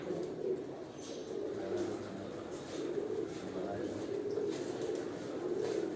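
Code Commander breed pigeons coo softly on a rooftop loft, low repeated throaty calls over a quiet, steady background hum.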